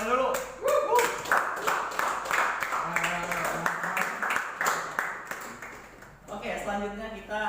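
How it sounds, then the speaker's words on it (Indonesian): An audience claps at a press conference, with quick uneven rounds of applause under and between a speaker's voice. "Kasih tepuk tangan dulu."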